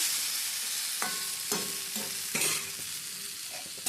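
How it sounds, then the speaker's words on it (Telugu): A spoon stirs egg curry with fresh coriander in a pan, making several distinct scraping clinks against the metal over a constant frying hiss, close and fairly loud, with no voices. "ఎగ్స్ వేసేసి కొంచెం కొత్తిమీర మంచిగా వేసేయండి. వేసేసి బాగా కలిపేసి"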